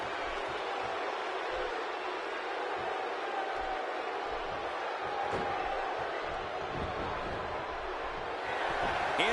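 Arena crowd roaring in the wrestling game WWE 2K16, a dense, sustained wash of cheering that swells slightly toward the end, with a commentator talking over it.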